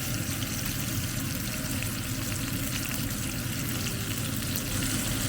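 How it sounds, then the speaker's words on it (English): Steady, dense sizzling of lamb chops frying in a hot pan, continuous and close, with no voices. "these have been frying for about a minute on one side"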